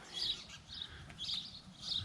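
Sparrows nesting in a backyard birdhouse, parents feeding their young: faint high chirps come in short repeated bursts, fairly distant, over quiet outdoor background.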